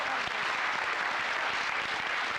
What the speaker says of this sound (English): I think they deserve a round of applause there